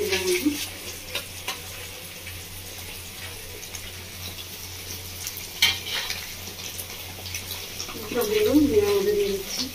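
Eggs fry in oil with a quiet, steady sizzle and light stirring, while a voice speaks faintly near the end.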